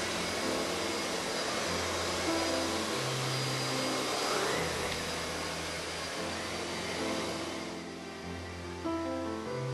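A Miele S7 vacuum cleaner runs with a loud, steady motor roar as it is pushed back and forth across the floor, with the pitch shifting slightly as it moves, and no voices.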